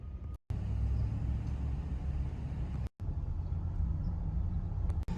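A pickup truck's engine hums low and steady while driving, a continuous rumble with road noise, cut by two brief silent gaps, with no talking.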